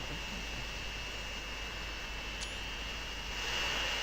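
A plane takes off in the Transport Fever video game, a steady hissing jet-engine roar at moderate level that swells slightly toward the end, with no talking.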